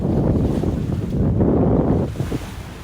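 Strong wind buffeting a sailboat at sea off Albania, a loud continuous rumbling roar with gusty swells and sea noise, no talking.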